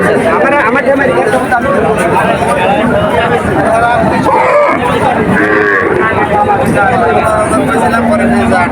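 Cows low and moo amid a loud crowd at a busy village cattle market, with constant babble and nearby voices talking over the animals.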